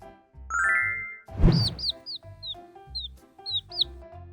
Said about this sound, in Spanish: Llaman a su mamá gallina diciendo "pío pío" cuando tienen hambre.